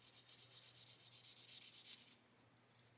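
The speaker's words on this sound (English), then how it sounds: "So the paint's not fully dry yet, it's tearing rather than sanding." Not-fully-dry paint on a 1/35 CH-54A helicopter model kit is sanded by hand, a quick, even run of about twenty soft rasping strokes, close and faint, that stops abruptly, leaving quiet hum.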